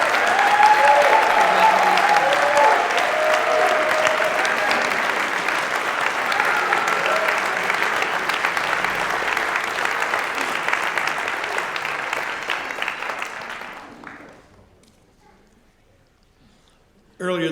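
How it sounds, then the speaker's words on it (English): Sustained applause from a graduation convocation audience for graduate doctoral students at a College of Fine Arts spring ceremony, dense and loud clapping for about fourteen seconds before quickly dying away, followed by a brief new burst at the end. "Let's give our students, all of our graduate doctoral students, one more big hand of applause."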